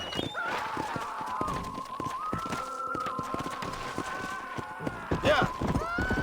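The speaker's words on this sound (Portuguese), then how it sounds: "Nossa, cavalo bonito." Galloping horse hooves in the video game Red Dead Redemption on PC, a quick steady clip-clop rhythm running throughout alongside game music and effects, with someone talking over it and a louder burst near the end.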